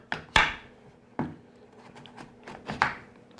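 Knife thunks and chops cutting through a butternut squash on a board, several sharp woody impacts spaced out over a few seconds, close and moderately loud.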